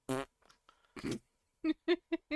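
A fart sound effect: a few short buzzy bursts in quick succession, loud and close, separated by brief gaps with no one talking.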